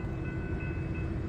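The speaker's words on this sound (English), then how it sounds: "outbound Metra." Outbound Metra commuter train passing at Downers Grove, Illinois, a steady close rumble of rolling cars with a faint sustained tonal whine, continuous and fairly loud.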